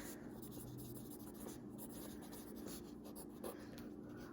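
A pencil writes a sentence on paper, giving a steady, soft scratching that runs the whole time with no talk over it.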